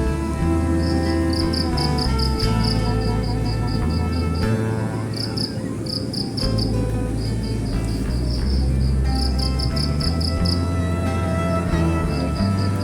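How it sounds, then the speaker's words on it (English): Grasshoppers chirp in repeated short bursts of high, buzzy trills, steady and fairly loud over a dense natural background with a low continuous drone and no talk. "Grasshoppers are herbivorous insects of the suborder Califera in the order Orthoptera."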